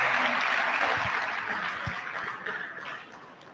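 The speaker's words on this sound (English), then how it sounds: "Another round of applause for Professor Doyin Salami" Audience applause for Professor Doyin Salami fills a hall, a dense wash of clapping that starts loud and slowly thins and fades over a few seconds.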